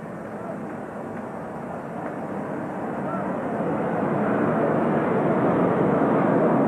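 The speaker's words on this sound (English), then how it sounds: "the jet aircraft whistles by overhead" A jet aircraft passes overhead during a 1985 baseball broadcast from the Braves at Mets game, a broad roar swelling steadily louder over the crowd ambience.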